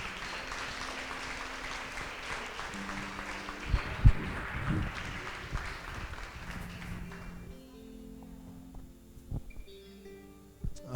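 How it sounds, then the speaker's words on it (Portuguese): A church congregation claps during a Pentecostal-style service, a scattered, moderately faint round of applause with a few sharp taps that thins out and fades toward the end. "Aplauda ao Senhor."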